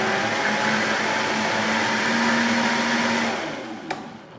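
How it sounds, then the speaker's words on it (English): A blender pureeing a peri peri prawn marinade paste, a loud, steady close-up motor whir that runs evenly, then winds down and cuts off near the end with a small knock. "Just gonna give it a final little puree."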